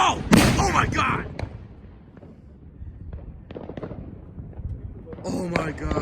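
Loud Fourth of July fireworks exploding outside a house: a heavy crackling blast at the start, scattered pops through the middle and another big crackling burst at the end, with people talking in between.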